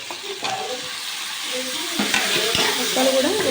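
Fish pieces drop into oil already cooking ginger and turmeric, producing a rising sizzle with stirring scrapes and utensil knocks, close and growing louder toward the end, no one speaking.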